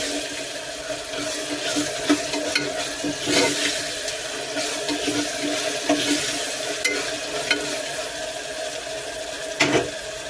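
Onions frying in a pan for a goat head curry, a steady close hiss of sizzling oil with scattered crackles and a few louder stirring knocks.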